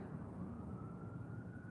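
Distant emergency sirens wail outside, a faint steady tone sustained under a continuous low rumble of background noise.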